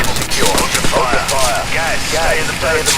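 Rapid bursts of gunfire in the Call of Duty 4 video game crackle loudly and continuously, mixed with shouting voices.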